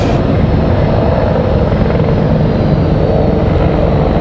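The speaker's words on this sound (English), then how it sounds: "You can hear the Black Hawk helicopter." A Black Hawk military helicopter roars continuously and loudly overhead, its rotor thumping steadily with no other sounds, near an airport.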